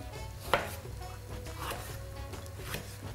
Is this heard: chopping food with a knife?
yes